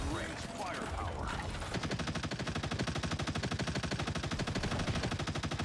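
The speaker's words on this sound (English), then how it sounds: "I guess Punisher's just shooting." The Punisher in Marvel Rivals lets loose a steady, rapid stream of automatic gunfire, evenly spaced shots hammering without pause after a brief moment of mixed game noise at the start.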